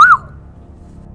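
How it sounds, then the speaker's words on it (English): One short, bright rising-and-falling whistle from a person, close and loud, cut off after a fraction of a second and followed by a low room hum. "you just hear her whistle."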